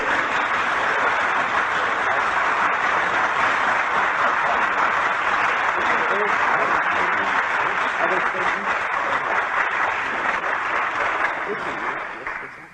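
Audience applause with some cheering from a crowd at a 1972 event in Kathmandu, a dense, steady wash of clapping that holds for about twelve seconds before starting to fade at the end.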